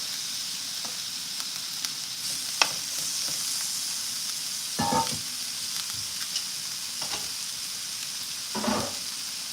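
Food sizzles and fries steadily in a pan on a stove, a continuous crackling hiss with occasional louder bursts of spitting, close by and with no talking.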